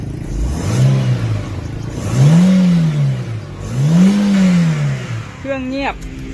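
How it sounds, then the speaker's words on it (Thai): A Chevrolet Zafira seven-seat family car's engine revved in three rising and falling swells over idle, fairly close and loud, with a brief voice at the end. "เดี๋ยวเบิ้ลให้ฟังเสียงเครื่องนะครับ"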